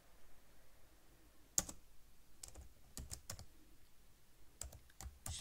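Close, quiet computer keyboard typing in scattered short bursts of clicky keystrokes separated by pauses.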